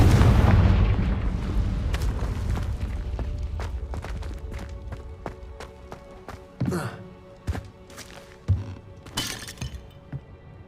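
A Confringo spell blast in the game Hogwarts Legacy: a loud booming burst that decays over several seconds, followed by scattered sharp cracks and crumbling, shattering debris impacts.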